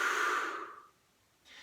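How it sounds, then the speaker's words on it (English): A deliberately exaggerated, loud, airy exhalation from a spinal breathing rehab drill fades out over about a second, followed by the soft start of the next breath in. "So I've exaggerated the noise that we're doing so that you can hear me breathing in, hear me breathing out."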